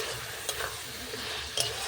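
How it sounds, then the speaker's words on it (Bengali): Turmeric and spices stirred in a hot pan for a water chestnut fruit curry, giving a soft continuous sizzle with two faint scraping touches of the spoon, close and quiet. "দিয়ে ভালো করে একটু নাড়িয়ে দিচ্ছি।"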